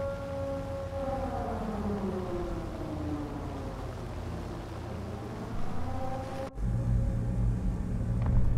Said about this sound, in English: Putting the nuke sirens in my ears again.